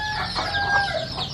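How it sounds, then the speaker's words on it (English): Hens clucking and murmuring close by on an organic chicken farm in India, a short, busy burst of farmyard chatter with several birds overlapping. "You see all these hens here."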